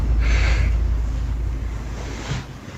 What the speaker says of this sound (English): Zark is suddenly woken up by the unexplained sound of running water